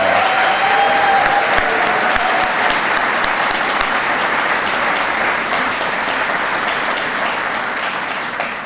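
A ceremony audience at a Salt Lake Community College and University of Utah Herriman campus ribbon event applauds steadily, a loud, dense wash of clapping that holds for several seconds and tapers slightly at the end.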